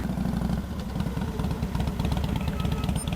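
A motorcycle engine idles and putters steadily with a low, throbbing rhythm, close by and moderately quiet.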